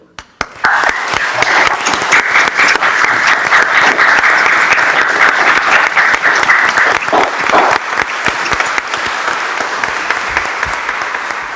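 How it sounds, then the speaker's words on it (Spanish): A crowd applauds at a lawyers' swearing-in ceremony before the Supreme Court, loud dense clapping that holds steady for about ten seconds before thinning slightly toward the end. "Aplaudamos este logro"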